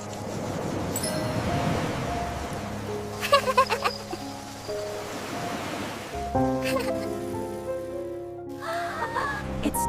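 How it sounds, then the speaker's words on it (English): Rain falling on a mobile home, a steady hiss of drops under quiet voices and soft household sounds, with a low hum entering partway through. "It's starting to rain too."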